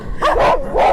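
A dog barks twice in quick succession, close and fairly loud, each bark a short rising-falling yelp over faint background noise.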